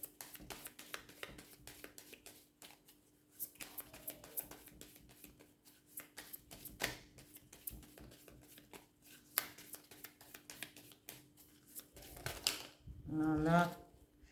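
Tarot cards being shuffled and turned over by hand, a dense run of quick flicking riffles and soft slaps up close, ending in a louder burst of shuffling.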